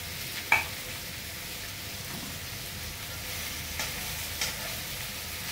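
Onions and masala sizzle steadily in a pan for a fish curry, a constant close frying hiss with a few faint stirring clinks and no talking.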